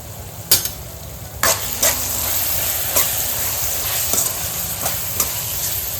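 Vegetables and spices for paneer biryani frying in a pan, a steady loud sizzle with sharp scraping knocks of the stirring spoon every second or so, close up and without talk.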